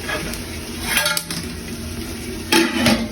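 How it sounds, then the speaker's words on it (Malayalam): Metal clatter of a lid set onto a pan of sautéed onions while cooking Malabar biryani, a couple of close clinks and scrapes over a faint background hum. "ഉള്ളി നല്ലോണം വഴറ്റി നമുക്കൊന്ന് ഒന്ന് മൂടി വെക്കാം"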